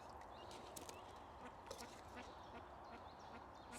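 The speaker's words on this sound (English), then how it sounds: "I really don't mind these ducks in my peg" Ducks quacking around an angler's peg on a fishing lake at Ivy House Lakes in May, a steady chorus of calls at moderate distance over continuous outdoor background noise.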